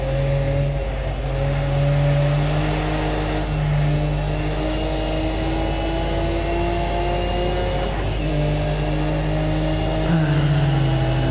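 Race car engine in Project Cars 2 lapping the Nordschleife at night in snow, droning steadily and loudly close up, its pitch slowly rising and falling with gear changes and throttle, with no other sounds.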